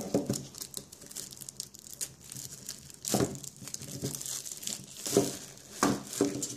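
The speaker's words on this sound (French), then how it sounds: "Et on va commencer par ouvrir la Pokébox Dracofeu." Plastic packaging of a Pokémon Charizard Pokébox crinkles and tears as it is opened, giving close, irregular rustling and crackling bursts with no speech.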